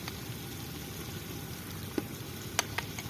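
Chicken pieces sizzle gently in a pan while being browned for traditional Layyah-style murgi sobat, a faint, steady crackling hiss with a few sharper pops toward the end.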